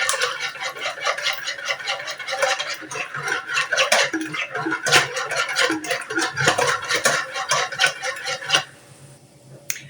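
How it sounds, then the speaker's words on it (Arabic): Egg and sugar whisked by hand in a bowl for homemade bread dough, a rapid steady clatter of a utensil against the bowl, close and fairly loud, stopping near the end. "نخلط هذه المكونات مليح"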